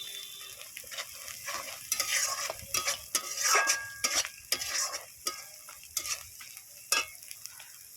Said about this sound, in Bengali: দেখুন আদা বাটা, লঙ্কা বাটা, পেঁয়াজ খুব সুন্দর করে কষিয়ে নিয়ে